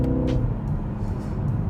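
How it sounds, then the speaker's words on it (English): Exhaust of a 2019 BMW X2 M35i four-cylinder engine on a winding road: a steady, deep, loud drone heard from inside the moving car, with no talking. "can you guys hear that? How aggressive this exhaust sounds?"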